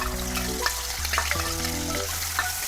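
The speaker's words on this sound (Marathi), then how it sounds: "मागाशी कांदा टोमॅटो आणि आलं लसूण याची जी पेस्ट बनवली आहे ती पेस्ट आपण आता या गरम तेलामध्ये टाकणार आहे।" Onion, tomato, ginger and garlic paste fries in hot oil for a chole masala, giving a steady loud sizzle throughout with a low hum and a few soft clinks, no voices.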